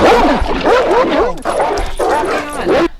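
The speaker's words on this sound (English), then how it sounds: "There was barking dogs and chains." Several dogs bark and yip in quick overlapping bursts, loud and close, with whimpering cries mixed in and voices talking over the commotion.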